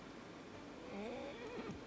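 A horse whinnies once in an animated Viking-era farm drama, a clear, wavering neigh rising and falling over a steady background hiss, with a faint clip-clop of hooves underneath and no voices.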